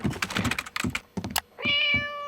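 A cartoon cat meows once from a cat video playing on screen in Regular Show, a short, clear, tonal cry that follows a rapid patter of clicking and tapping sounds.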